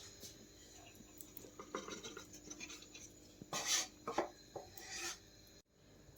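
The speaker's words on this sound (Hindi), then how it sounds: "इसे हम एक बड़े बर्तन में पलटी कर लेते हैं।" Dry, scraping rasps and rubbing of roasted flour tipped into a large metal pot, with a few soft clanks, close and unaccompanied by speech.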